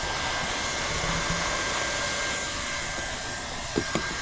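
A hot air welder blows a steady, loud whooshing stream while sealing a TPO roofing patch, an unbroken hiss close at hand with a couple of faint taps near the end.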